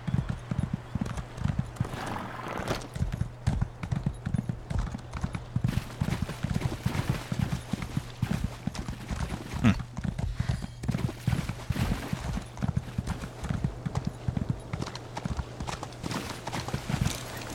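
A horse's hooves clip-clop steadily in the video game Elder Scrolls Online, a brisk, continuous rhythm of close, even hoofbeats over a low background hum, lasting throughout with no talking.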